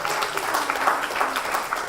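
A studio audience at a talk show pilot taping applauding the band, a dense steady wash of clapping that stays even and moderately loud for a couple of seconds.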